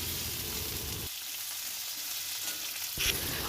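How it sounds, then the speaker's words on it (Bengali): Potatoes and onions fry together in a pan in a village kitchen, sizzling loudly and steadily, the hiss broken by a brief stir and a sudden flare of sizzle near the end. "আলু পেঁয়াজ একসঙ্গে ভেজে নেব"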